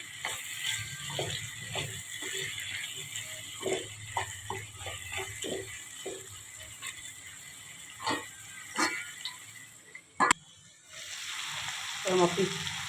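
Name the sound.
mutton with coriander spices being stirred and fried in pan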